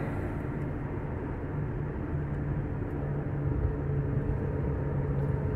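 A 2011 Subaru Outback with a 5EAT automatic drives along with torque converter shudder, giving a steady, loud low rumble of road and drivetrain noise throughout, with no talk.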